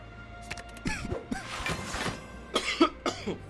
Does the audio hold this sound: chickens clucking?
no